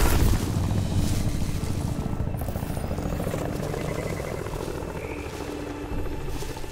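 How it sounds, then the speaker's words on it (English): A helicopter in the video game Crysis 3 Remastered drones with a continuous low rotor thump and engine whine, loud and steady throughout the scene. "I hear a helicopter."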